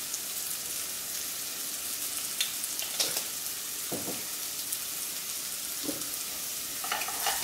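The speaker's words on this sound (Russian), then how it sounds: "Перемешиваем." Sliced zucchini with garlic and herbs fries in a pan while being stirred: a dense, even sizzle runs throughout, with scraping strokes of the spoon rising above it every second or two.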